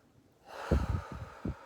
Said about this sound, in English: We're just going to take a deep breath in